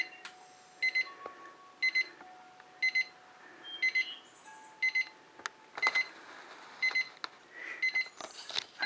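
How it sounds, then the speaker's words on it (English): Kitchen-style timer alarm sounding in repeated bursts of rapid high beeps, about once per second, fairly loud and alone over a quiet background with a few faint clicks. "Unfortunately, the timer is a little bit irritating."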